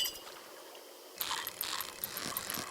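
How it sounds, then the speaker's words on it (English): A computer mouse clicks in quick irregular bursts while playing a fishing minigame in Stardew Valley, the crisp close taps starting after a second of near silence and continuing faintly. "I don't know if you can hear the mouse, but pulse, click, click, click"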